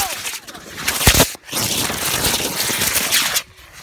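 Homemade model rocket launching, a loud close roaring rasp of burning motor that lasts a few seconds and cuts off sharply, with a brief gap early on and a voice exclaiming over it.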